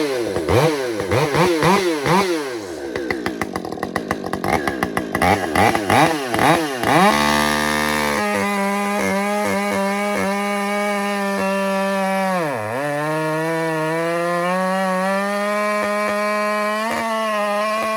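Husqvarna 550 XP chainsaw revving hard in short bursts, then settling into a loud, steady high-pitched run with one brief dip in pitch, close to the listener and with no talking.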